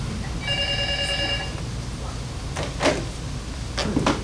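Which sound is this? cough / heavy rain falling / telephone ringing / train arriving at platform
telephone ringing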